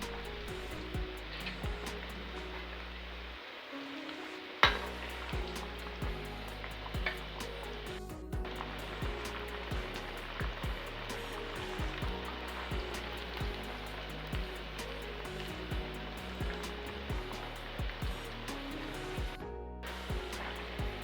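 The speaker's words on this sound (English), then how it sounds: "I fry them until they turn golden brown, turning them gently so they cook evenly and do not burn." Rice balls made from leftover rice frying in hot oil, a steady dense crackle and hiss that runs on without a break, loud and close, with no talking over it.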